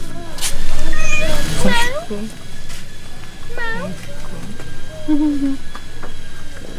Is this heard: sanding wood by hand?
no